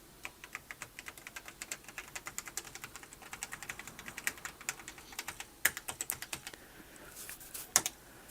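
Keys clack on an Apple IIe computer keyboard in quick, fairly steady bursts of close typing, with a few louder isolated key strikes near the end and no talking.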